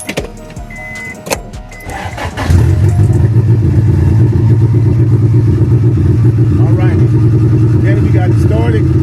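A Honda Civic EF catches after a few clattering cranks, then settles into a loud, steady idle close by, with a voice speaking over the running engine.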